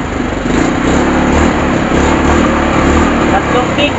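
A Kymco Super 8 scooter engine runs steadily after a kick start with a new CDI, a close, continuous buzzing idle that fills the whole stretch with no break.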